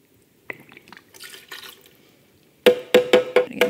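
Lime juice for a frozen daiquiri, 1.5 ounces poured into a jigger: a few soft drips and trickles at first, then a close run of five or six loud, rhythmic splashing pours.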